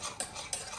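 Spoon stirring lemon juice into a mixture in a bowl, two quick scraping clinks against the bowl over soft rustling, faint and close.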